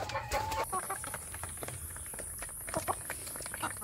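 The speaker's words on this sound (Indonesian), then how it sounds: "saya memberi makan ayam kampung saya sedulur yang ada di umbaran." Free-range village chickens clucking at feeding time on a small egg-laying farm, scattered short clucks near and far over a faint steady hiss and background noise.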